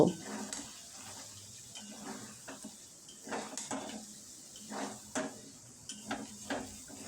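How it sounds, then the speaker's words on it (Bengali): Chicken and whisked sour yogurt cook over low heat in a pan for chicken biryani, with a soft sizzle under repeated clinks and scrapes of a spatula stirring against the metal; no one speaks. "একদম লো হিটে আবারও কিছুক্ষণ কষিয়ে নেব"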